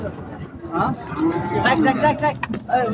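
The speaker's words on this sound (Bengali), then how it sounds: "গরুটা কিন্তু খুলে নিয়ে যাচ্ছে সেই বিখ্যাত চান্দাইকোনা হাট।" Cattle at the Chandaikona cattle market, with lowing calls mixed into busy crowd chatter and nearby voices, close and fairly loud.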